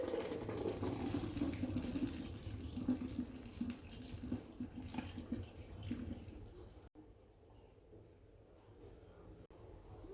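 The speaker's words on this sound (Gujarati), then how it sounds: "મકાઈના દાણામાંથી પાણી હવે કાઢી લઈશું" Hot water drains off boiled American sweet corn kernels in a steady hiss and trickle that fades to near silence toward the end, faint and close.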